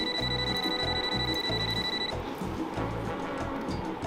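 An old mobile phone rings with a repeating electronic ringtone in short rhythmic pulses. A high beeping tone stops partway through and the ringing carries on, loud and close.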